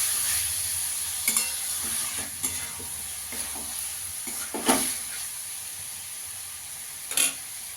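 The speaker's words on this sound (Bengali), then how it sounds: "এবার চালটা দিয়ে ভালো করে ভেজে নেব।" Soaked rice frying in a pan for paneer pulao gives a soft, steady sizzle, broken by several scraping stirs and a few louder clattering knocks of the spoon.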